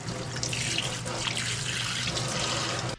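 Kitchen sink tap runs steadily while a trout is rinsed under the stream, a close, continuous splashing wash with faint shifts as the fish moves through the water.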